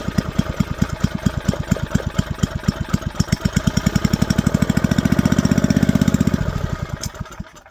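A 1981 Tecumseh small engine runs after a carburetor clean, loud and close with a fast, even put-put firing rhythm that rises slightly in speed midway before settling.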